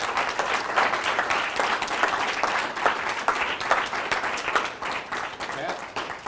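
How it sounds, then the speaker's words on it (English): An audience at a value-investing talk gives a long round of applause, many hands clapping in a lively, slightly uneven patter that keeps going for several seconds. "Why don't we give Pat a big round of applause?"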